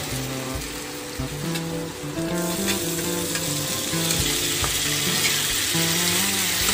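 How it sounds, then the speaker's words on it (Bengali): Spices with turmeric and salt frying in oil, stirred with a metal spatula, giving a steady sizzle with rhythmic scraping strokes, close and fairly quiet, no talking. "যতক্ষণ না মশলা থেকে তেল ছাড়বে আমি খুন্তি দিয়ে নাড়াতেই থাকবো।"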